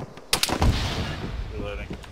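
Gunfire in the video game Arma 3 plays as a couple of quick sharp shots followed by a booming, rolling report that trails off, with background game noise.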